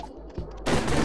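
Gunfire in the video game Stick It to the Stickman: a quiet lead-in, then a loud, dense burst of shots that continues to the end.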